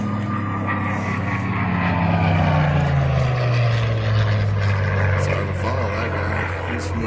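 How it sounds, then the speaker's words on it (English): A Bell P-63 Kingcobra WWII fighter flies at an air show, its piston engine and propeller a steady loud drone with a slowly falling pitch as it passes. "B-63 King Cobra."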